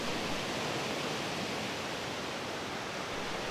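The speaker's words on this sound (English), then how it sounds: "the waterfall on the upper Old Man River is a lot easier to photograph than it is to fish" The waterfall on the upper Old Man River roars as a steady, dense wash of falling water, even and unbroken throughout, with no voices.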